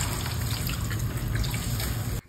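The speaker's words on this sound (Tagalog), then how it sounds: "lagyan natin siya ng isang mangkok na tubig." A bowl of water is poured into a cooking pan holding an oyster sauce mixture. It makes a brief, continuous splashing rush that stops abruptly.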